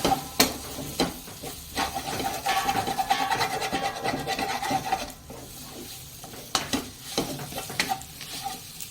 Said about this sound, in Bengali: দিয়ে ভালো করে একটু নাড়াচাড়া করে নেব